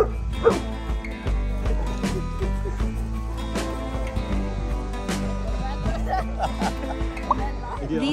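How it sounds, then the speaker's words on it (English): A Leonberger gives scattered close barks and high yips across the stretch, set against continuous background music. "The breed of this one is Leonberger."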